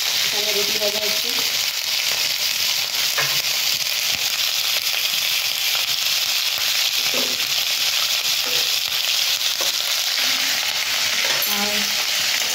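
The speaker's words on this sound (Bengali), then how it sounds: "এখানে রুটি ভাজা হচ্ছে।" Roti frying in hot oil in a kadai, a loud, dense, continuous sizzle with crackles and occasional stirring clinks, close up throughout.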